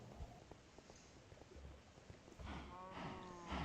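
Cows mooing in the Minecraft video game, a couple of low bovine calls rising near the end over faint clip-clop footsteps and light background game noise.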